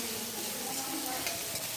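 Garlic, onion and a mild green chili fry in a pan, giving a dense, continuous sizzle at an even level for a short stretch. The frying sounds close, with no talking.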